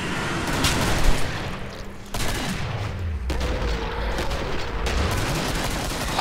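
Rapid automatic shotgun blasts from an AA-12 in the Killing Floor video game, a dense fusillade of loud booming shots fired in quick bursts, with game noise continuing throughout.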